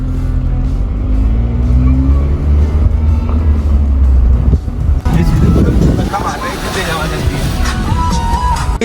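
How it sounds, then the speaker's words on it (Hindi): A car is off-roading up a steep, dangerous mountain road toward Panchachuli peak on the way to Darma Valley. Its engine drones loud and steady, then gives way to rougher, broad rumbling and crunching noise. "एक्सट्रीम ऑफ रोडिंग हो रही है।"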